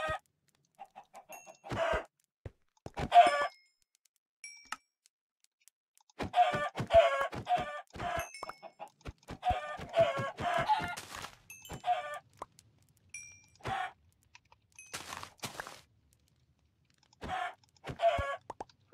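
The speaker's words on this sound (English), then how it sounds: "I'm gonna have to figure out how to kill these chickens." Chickens in a video game cluck in short, irregular bursts, with clucks scattered across the whole stretch and brief pauses between them, clear and fairly close.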